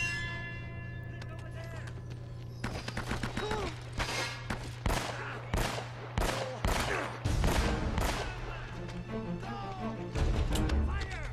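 Gunfire in the video game Uncharted: Drake's Fortune, repeated sharp shots in uneven bursts over a steady background hum, with someone talking over part of it.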